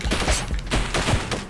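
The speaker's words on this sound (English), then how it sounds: "A lot of bullets now." Rapid bursts of gunfire from the four-player samurai fighting game Samurai Gunn, dense repeated shots fired close together and loud throughout, with no talking.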